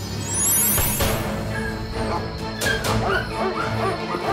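Several pet dogs whimpering, yipping and giving short barks at close range, with a brief crash early on and a busy, noisy background throughout.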